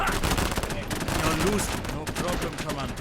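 Rapid, overlapping gunfire bursts sound from the WWII real-time strategy mobile game WarAlert. They are dense and continuous, with a player's voice talking over the shooting.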